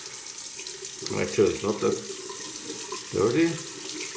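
Tap water runs while a Rockwell 6S safety razor is rinsed under it, a steady background wash broken by louder splashing bursts as the razor passes through the stream, with someone speaking briefly over it.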